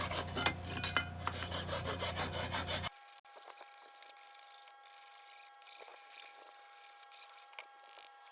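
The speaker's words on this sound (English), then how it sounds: "File this end a little bit." A metal file rasps against the end of a motor shaft on a two-cylinder engine being torn down for scrap. Close, dry strokes come faintly and irregularly after a louder stretch of background noise at the start.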